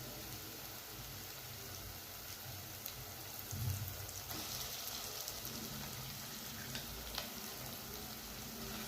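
Roasted eggplant paste sautéing in oil for Hyderabadi baingan masala, a steady, dense crackling sizzle with occasional stirring scrapes, close and continuous throughout.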